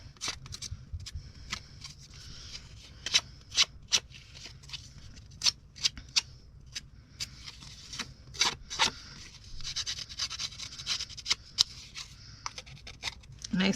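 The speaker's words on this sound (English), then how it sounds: "we'll take the side of the scissors and we'll just rough up" Paper edges with a floral pattern are roughed up with the side of scissors, giving a series of soft, close scraping and rubbing strokes under quiet talk.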